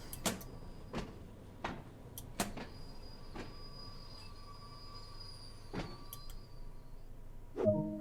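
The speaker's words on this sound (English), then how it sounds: "let's get the doors open here" Train doors opening in Train Sim World 2 on the Isle of Wight route: a series of sharp mechanical clunks and thuds spaced irregularly over a quiet hum, with a door whine and final rattling slide near the end.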